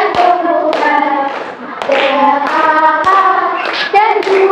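Schoolchildren in a primary classroom singing a song together while clapping along, sharp hand claps landing on the beat under loud group singing.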